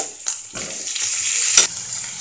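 Onion, green chilli and tomato sizzle and hiss in a pan for egg bhurji, with brief stirring scrapes breaking through the steady close frying.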